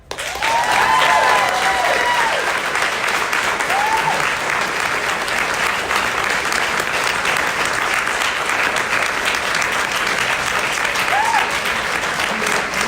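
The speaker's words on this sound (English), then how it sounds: "I love hearing this applause" Sustained loud applause from an audience after a lecture on Modern Monetary Theory, continuous dense clapping filling the whole stretch, with a few brief voice sounds early on.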